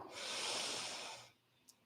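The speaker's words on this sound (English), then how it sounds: "Full, complete inhale." A single long, deep inhale through the nose and mouth during a yoga power flow class, a close, airy rush of breath that swells and then cuts off.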